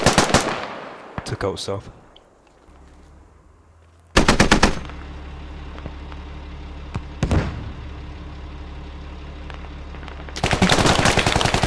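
Automatic machine-gun bursts in a tactical military shooter game, loud sharp volleys opening and closing the stretch with a single rapid burst midway, with team voice chat heard between them.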